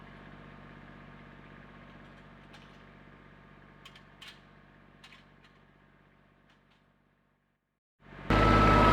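A Kubota L3200 compact tractor's diesel engine idles steadily at close range, a low continuous drone with a few brief mechanical clicks, fading down before a sudden loud burst of noise at the end.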